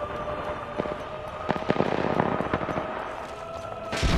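Scattered gunshots crack through a video game battle, with sharp single reports and short bursts at moderate distance. A dense background din of combat noise runs underneath.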